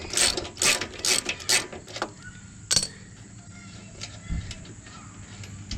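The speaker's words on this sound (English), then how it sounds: "you can take the nut and the washer off" A ratchet wrench clicks in quick, loud bursts while nuts and washers come off the bolts of a Bushwhacker RV step, then goes quiet apart from a single later burst of clicks.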